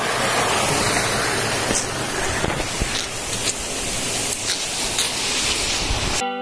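Water rushes and splashes steadily along a mountain hiking trail on the route to Devi Pindi, a loud, broadband wash that runs unbroken and close up before cutting off abruptly at the end.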